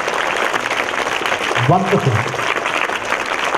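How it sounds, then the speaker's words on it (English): An audience at a school Christmas celebration for classes VI to X breaks into steady, sustained applause, a dense crowd clapping with a voice briefly speaking over it. "Give a very big round of applause"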